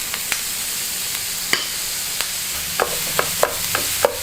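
Minced meat frying in a pan with onions for a cottage pie, a steady close sizzle broken by several sharp scraping and stirring clicks from the spatula, with no voices.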